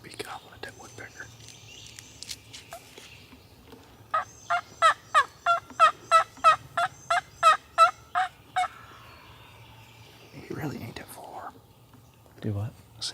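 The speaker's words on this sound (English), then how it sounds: "He should be gobbling at that woodpecker." A wild turkey gobbles in spring woods: after scattered faint calls, a rapid, regular series of about a dozen loud, clipped gobble notes rolls out at moderate distance, followed by quiet rustling and low whispered voices.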